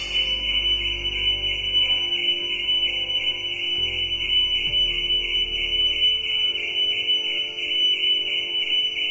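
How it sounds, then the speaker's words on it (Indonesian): A loud car alarm rings continuously in a showroom after a Mitsubishi Xpander crashed into a Porsche, a steady high-pitched electronic tone over a low rumbling background, with no pause throughout. "Terdengar juga alarm di lokasi kejadian berbunyi"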